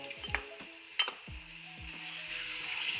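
Steady sizzling of garlic-ginger paste frying in hot oil, with a few utensil clinks and scraping stirs against the pan.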